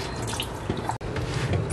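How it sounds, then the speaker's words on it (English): A kitchen tap runs steadily while glass candle containers are washed with soap and warm water, a close, even splashing flow with a brief break partway through. "I have to just wash this with soap and warm water"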